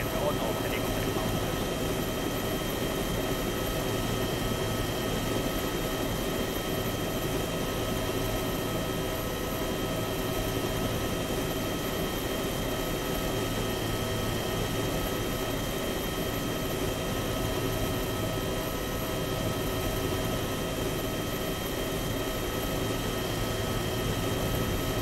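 An aircraft in the military game Arma 3 slowing its airspeed to land gives a constant loud engine drone that stays unbroken and even from start to finish.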